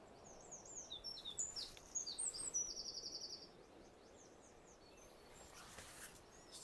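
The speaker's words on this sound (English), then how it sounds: "see if you can hear the birds better." A European robin and a dunnock sing faintly in spring at Wheelers Bay on the Isle of Wight, with quick rippling phrases for the first few seconds and then softer distant calls over a low outdoor hiss.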